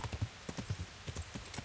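Horse hooves clip-clop in the Kingdom Come Deliverance video game, a quick, even run of soft thuds repeating at a steady trotting rhythm, faint and without speech.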